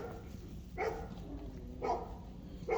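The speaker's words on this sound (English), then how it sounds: "that dog is barking like a mug" A dog barks a few times at a distance, two short bursts spaced about a second apart over a steady low background murmur.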